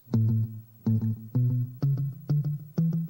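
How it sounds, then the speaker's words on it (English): A guitar played through a tape echo stomp box plays six plucked notes in a steady rhythm, each with a quick repeating tape-style echo trailing behind it, close and clear. "He used an amplifier with a tape echo right in it"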